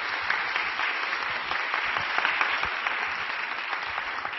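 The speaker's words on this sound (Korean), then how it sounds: "나오실 때 우리 큰 박수로 환영하도록 하겠습니다." A church congregation at Onnuri Church applauds loudly to welcome the pastor to the pulpit, a continuous even wash of many hands clapping with no voices over it.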